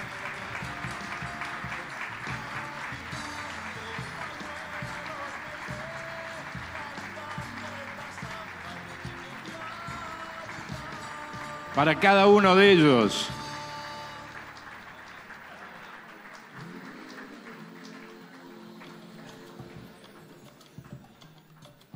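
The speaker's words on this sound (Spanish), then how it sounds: "Sigue el aplauso para cada una de las entregas." An audience applauds steadily at a ceremony presenting commemorative coins to veterans and the fallen. The clapping runs under an announcer's amplified speech, with a brief loud burst midway.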